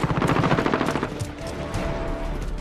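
Rapid automatic gunfire from a Call of Duty Modern Warfare Domination match on the Hackney Yard map, loud and continuous bursts at close range, easing slightly toward the end.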